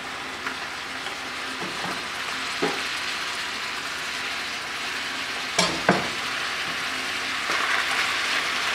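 Chopped onions fry alongside browned hamburger meat in a pan for beef chili, giving a steady close sizzle with a few brief stirring scrapes near the middle.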